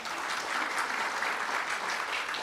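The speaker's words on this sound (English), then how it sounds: "let's give them another big round of applause" Lecture hall audience at a public lecture on visionary leadership gives a sustained round of applause, a steady, dense wash of many hands clapping with no talk over it.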